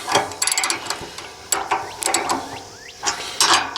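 Ratchet tie-down straps being tightened on a heavy-duty Versahaul motorcycle hitch carrier holding a Honda CRF250L dual-sport on a Jeep Wrangler: loud, close bursts of rapid clicking pawl ratchets with brief pauses between pulls.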